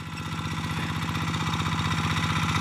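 A G1000 Boxer hand tractor engine runs steadily nearby in a rain-fed field, a rapid even chugging putter with clattery mechanical tone and no talk.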